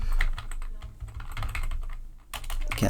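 Fingers typing on a computer keyboard, a rapid, uneven run of close, crisp key taps with brief pauses and a burst of faster keystrokes at the end, no speech.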